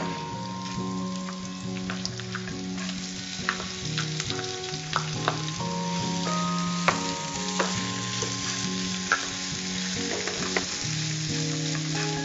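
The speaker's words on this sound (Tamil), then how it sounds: "இப்ப நம்ம வெங்காயம் சேர்க்கிறோம்." Onions sauté in hot oil, giving a steady sizzle broken by scraping stirs, all under background music with no talking.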